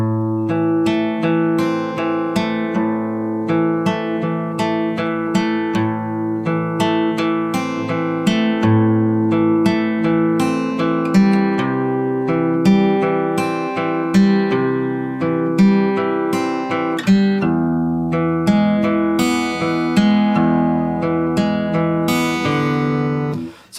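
Guitar playing the first line of a song from Life is Strange 2 slowly, a clean, close run of plucked notes and ringing chords with an even, unhurried rhythm throughout.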